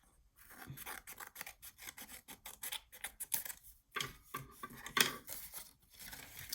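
Scissors snip repeatedly through scored paper pieces for a Christmas accordion mini album, a close, steady run of crisp cuts with brief pauses and no talking.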